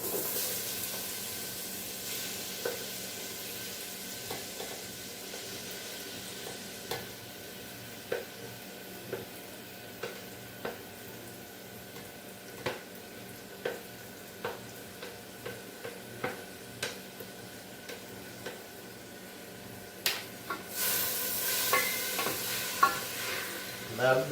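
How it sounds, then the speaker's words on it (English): Vegetables for ratatouille sizzle steadily in hot olive oil, a soft continuous frying hiss broken by regular clicking stirs of a utensil against the pan, close and fairly quiet. "Love the sizzle."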